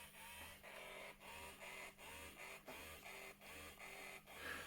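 The small motor in a Bolt laser cat toy whirs noisily, with a regular pulsing rhythm of about two beats per second that repeats evenly. It is close and moderately quiet, with no talking.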